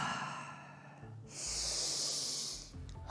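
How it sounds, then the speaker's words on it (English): A deep breath drawn in during a yoga and voice-opening practice: a close, soft inhale, then a longer, louder airy hiss for about a second, with no talking. "Deep breath in."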